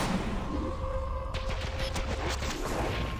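Turret fire in the video game Minimum, a quick series of sharp, clipped shots rattling over a constant game backdrop with a steady tone, moderately loud and without voices.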